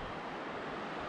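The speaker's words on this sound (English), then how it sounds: "And there's the river." A river in the Aurlandsdalen valley rushes in a steady, even wash of water noise, constant and moderately quiet throughout the short stretch.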